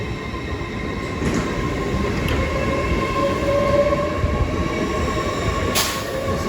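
An LNER class 801 train pulling out of Doncaster station bound for York, a loud continuous rumble of rolling wheels with a faint whine, close and steady throughout with no talk.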